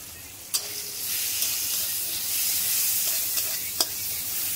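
Tomato sizzles steadily in a hot pan of oil, turmeric and chili powder just added, a continuous close frying hiss broken by a few sharp utensil taps while being stirred, with no talking.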